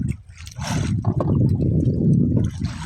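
Water rushes and churns loudly nearby, a strong turbulent flow with bubbling surges, heard alone without talk.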